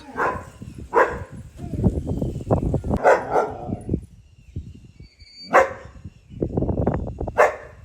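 A dog barks sharply several times, close by, in irregular bursts while a person talks over it.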